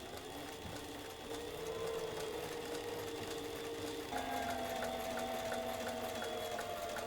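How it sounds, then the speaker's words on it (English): A leatherwork sewing machine with a size 19 twist point needle and Tex 90 thread stitches leather in a steady, rapid mechanical chatter with a motor whine, running continuously close by and shifting pitch slightly partway through. "I'm sewing with a size 19 twist point needle and Tex 90 thread."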